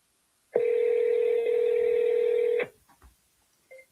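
A telephone ringback tone sounds on an outgoing call to a realtor: one long, steady, loud electronic tone lasting about two seconds, then near silence with faint rustles.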